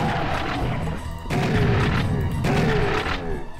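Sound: explosions in the video game Serious Sam

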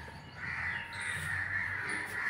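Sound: crows cawing

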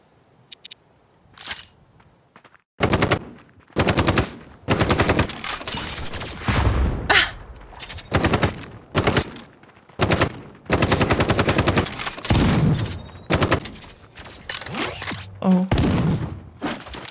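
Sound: gunfire shooting enemies in video game Death Trash

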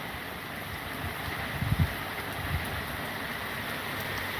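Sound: rain falling on the first winter day

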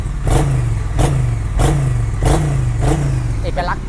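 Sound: Triumph motorcycle twin-cylinder engine revving

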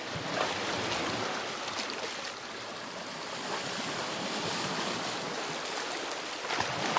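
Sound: sea waves on a beach in Nakhon Si Thammarat

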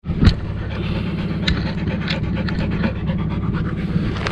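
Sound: dog panting

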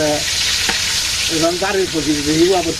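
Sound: fish frying in a pan

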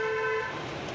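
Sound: car being driven, with horn honking

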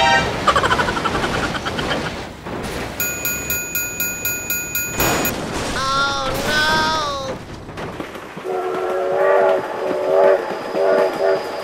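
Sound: train passing with horn in BeamNG.drive video game

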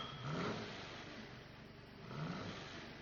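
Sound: car engine started and revved

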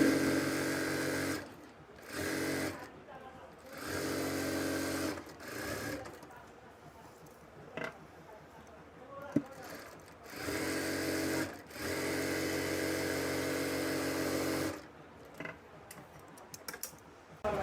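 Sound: sewing machine stitching palazzo seam

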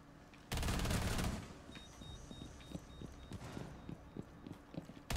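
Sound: gunfire from a gun in the video game Rainbow Six Siege

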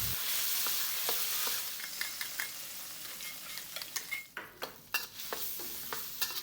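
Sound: stir-frying garlic and soybean paste

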